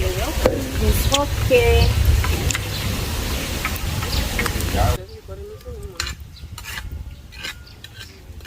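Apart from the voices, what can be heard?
stirring spices and onions frying in a pot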